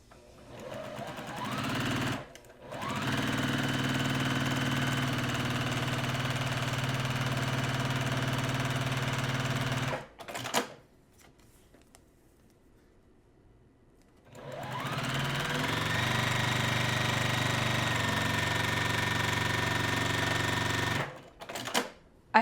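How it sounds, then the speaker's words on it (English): A sewing machine stitches half square triangle quilt pieces in two long, steady motor runs of about seven seconds each, close and loud, separated by a quiet pause with small handling clicks. "So let's take all of this to the sewing machine."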